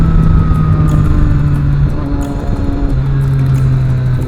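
A Triumph Daytona 675 motorcycle engine running loud and close during a ride, a steady droning roar with shifting pitch, no talk.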